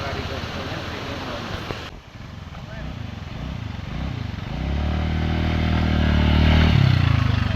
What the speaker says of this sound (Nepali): खै म एक राइड हान्छु बाइकको।